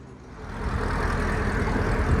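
A Chevy Camaro ZL1 fitted with a $2,000 aftermarket exhaust idles with a deep, steady low rumble that swells slightly at the start and then holds close and even, with no talking.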